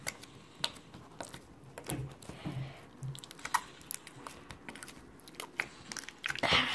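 Slime is squished and stretched by hand, giving a run of close, wet crackling pops and squelchy clicks scattered irregularly across the stretch, quiet but distinct with no talking.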